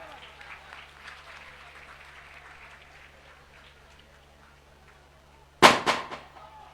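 A crowd at an Independence Day school ceremony breaks into a short, loud burst of clapping for a student, coming in suddenly near the end after quiet murmuring and then fading quickly.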